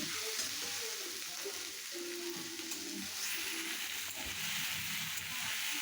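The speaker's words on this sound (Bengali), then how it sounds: "এরপর ওই পেস্ট করা পনিরগুলো দিয়ে দিল এবার ভালো করে ওটাকে নাড়তে হবে" Paste of paneer being stirred and fried in a pan for paneer paratha filling, a continuous soft sizzle under steady spatula scraping, close and even, without any voices.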